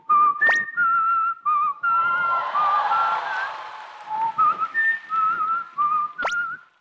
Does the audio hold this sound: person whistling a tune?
yes